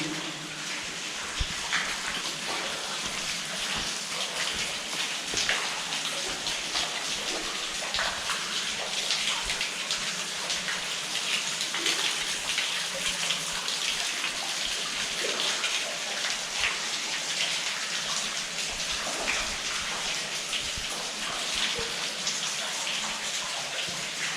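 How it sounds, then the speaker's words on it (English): A small creek in a Colombian forest near a cave, water rushing and splashing steadily and close by for the whole stretch, with no voices over it. "quebrada, little creek."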